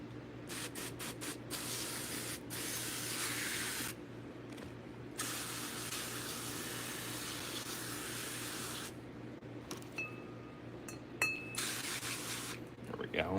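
A spray bottle mists water into a roach enclosure in a series of short hissing bursts, close up, with faint clinks and handling noises between sprays.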